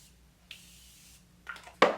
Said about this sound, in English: I'm going to take the Morphe setting spray again